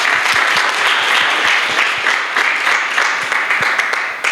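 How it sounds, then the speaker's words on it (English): An audience at a Murang'a University of Technology international federation event bursts into sustained, loud applause for a doctor who has just spoken, dense clapping filling the hall without a break. "can we give a clap to Dr."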